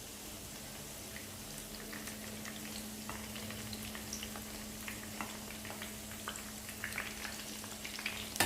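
Chicken kola urundai meatballs fry steadily in oil in a pan over low heat, a continuous close sizzle with scattered small pops and crackles that grow slightly busier near the end.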